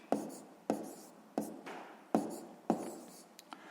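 Numbers are handwritten for a sixth-grade math exercise, heard as five close, evenly spaced taps and scratching strokes of a pen on paper in a quiet room.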